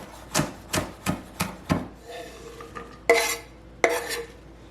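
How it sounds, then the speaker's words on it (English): A knife taps and chops vegetable leaves on a wooden cutting board in a home kitchen while a chicken casserole is being made. Five quick, evenly spaced strikes come first, followed by a pause and two sharper chops, close and clear with no talking. "I'm just chopping even the leaves, right?"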